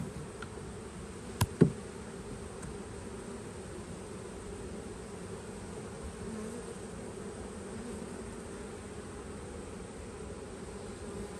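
Honey bees from a six-week-old package colony buzz steadily inside an open hive during a frame inspection, a dense continuous hum close by with a couple of brief sharp clicks early on and no talk.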